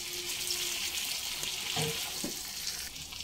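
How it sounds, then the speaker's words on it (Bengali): Fried potatoes stirred into a spiced masala in a pan over a low flame for Kashmiri dum aloo, giving a steady close sizzle with a few soft scraping stirs. "আলুগুলোকে দিয়ে 1 মিনিট মতো কষিয়ে নেব লো ফ্লেমে।"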